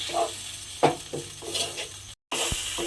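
Tomato paste masala fries in a pan for an okra and green pea curry, a steady sizzle under scraping and stirring strokes from a spoon, with one brief gap of silence near the end.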